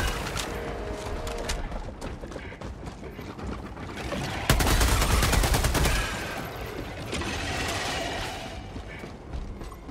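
Sustained automatic gunfire in Helldivers 2, a dense rattling stream of rapid shots with mechanical clatter that surges louder midway before settling into a continued barrage.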